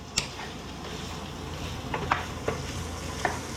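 Sausage browning in a pan for gumbo gives off a continuous sizzle, broken by several sharp clicks and scrapes of a utensil stirring it.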